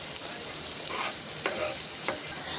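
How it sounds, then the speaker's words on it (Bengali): Chopped ginger and garlic frying in oil in a pan, a dense continuous sizzle up close with occasional sharp crackles and stirring scrapes, no voices. "এখন আদা রসুনটাকে একটু ভালো করে ভেজে নেব।"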